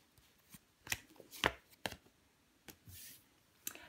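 A tarot card is laid down over the jack of pentacles during a reading, with a handful of soft card slaps and shuffling swishes scattered over a few seconds, close and fairly quiet.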